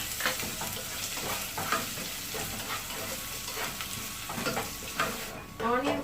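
Chopped onion frying in masala for keema cutlets, a steady close sizzle with repeated stirring scrapes of a spoon in the pan, loud and continuous throughout without talk.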